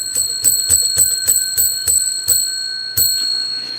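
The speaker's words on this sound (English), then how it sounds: "That means I ring this bell 10 times" A hand bell rung about ten times in a steady series of bright metallic strikes, each ring sustaining a clear tone that overlaps the next, close and fairly loud with no talking.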